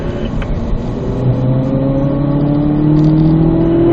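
Race car accelerating out of a turn on a track, the engine note climbing steadily and growing louder as it pulls through the gear, close and continuous.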